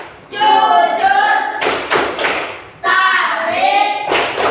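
A group chants the Tepuk bagi Rasul clap song in a classroom, with sung voices carrying the chant and two short bursts of sharp hand claps breaking in between the sung phrases.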